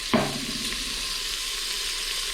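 Onions sauté in an Instant Pot with a steady, even sizzle, close and moderate in level, with one brief clack near the start.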